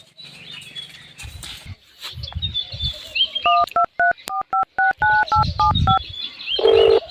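A telephone being dialed in a village setting, a quick run of about a dozen distinct keypad tones after some scattered noises, close and clear, followed by a short steady tone.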